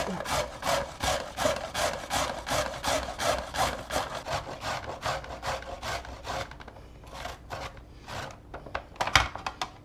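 A peeled carrot is grated by hand on a kitchen grater for Hawaiian macaroni salad, making steady rhythmic rasping strokes that slow and thin out toward the end.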